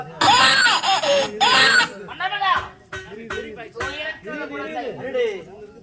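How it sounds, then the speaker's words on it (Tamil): A baby's wailing cries ring out in a Tamil stage drama, loud and close, in repeated breathy bursts with a strained, sobbing pitch. "குழந்தை அழுது கொண்டிருக்கிறது."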